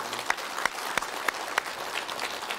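Studio audience in a television broadcast applauding to welcome a guest, dense steady clapping with a few sharper claps standing out, no voices.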